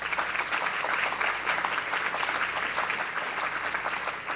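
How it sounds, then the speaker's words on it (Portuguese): A room full of people claps in a continuous, loud round of applause at a book fair event, honoring a grieving family member, with no speech over it. "Gostaria de pedir uma salva de palmas,"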